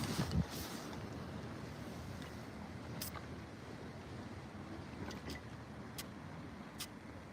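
Sea waves at Torquay make a faint, continuous wash of surf mixed with wind buffeting the microphone, with a few soft knocks on top.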